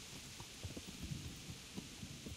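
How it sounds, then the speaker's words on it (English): Stormy weather in Kingdom Come: Deliverance, with steady rain hiss and scattered low rumbles and thumps of thunder, fairly faint and continuous with no talk. "It's a bit stormy as well, in case you hadn't noticed."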